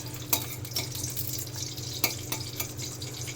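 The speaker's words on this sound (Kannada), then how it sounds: "ಸ್ವಲ್ಪ ಸಿಮ್ಮಲ್ಲಿ ಇಟ್ಕೊಂಡು ಗೋಡಂಬಿನ ಫುಲ್ಲು ಹುರ್ಕೊಳ್ಳೋಣ" Cashew nuts roasting in oil on a low flame for dhaba-style jeera rice, a soft continuous sizzle with a few sharp clicks and spoon knocks, close and steady.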